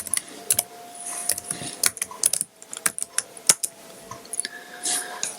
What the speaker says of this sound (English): You have to type in your administrator password.